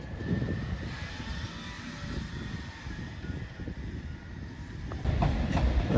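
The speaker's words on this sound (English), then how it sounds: "As 345034 arrives into here with the Maidenhead service." A Class 345 train pulls into a London station on a Maidenhead service, a steady loud rumble with faint wheel clicks building as it nears, no talking.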